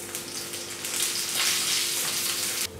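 Shallots, dried red chilies and curry leaves frying in hot oil for papaya thoran, a close, continuous crackling sizzle that swells midway and drops off abruptly at the end.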